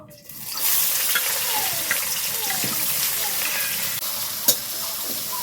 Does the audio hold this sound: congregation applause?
no